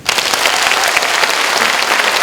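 An audience at a mind-healing talk with the Buddhist monk Haemin bursts into loud, dense applause, a continuous roar of many hands clapping close and full for the whole stretch before cutting off.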